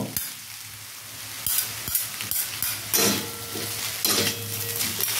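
Vegetable chowmein, street style, being stirred and tossed as it fries in a pan, with a steady sizzle and repeated scraping, clattering strokes of a utensil against the metal, close and fairly loud, with no voices.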